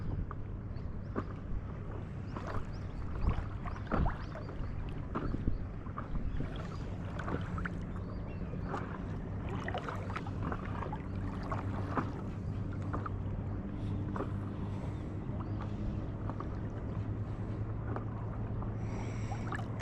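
Kayak paddling on Lake Biwa in Japan, with continuous water splashing and dripping strokes against a steady wash of wind and outdoor noise throughout.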